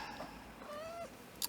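A pet cat gives a short meow in a quiet indoor room late at night, one clear rising-then-falling call heard close by, with a small knock near the end.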